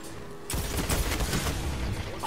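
Loud burst of gunfire from sniper rifles and shotguns in a first-person shooter match, dense overlapping shots and booms filling the clip after a brief quiet start.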